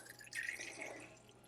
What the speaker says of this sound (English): And you're going to fill these with water.